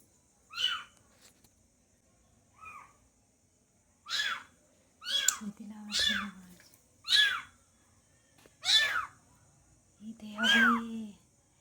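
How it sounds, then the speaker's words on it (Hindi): Cats meowing outdoors near a kitchen, a string of short, fairly clear mews repeating every second or so, with brief low murmurs of speech between some calls. "बाहर से बहुत ज़्यादा आवाज़ आवत है, म्याऊं म्याऊं करके।"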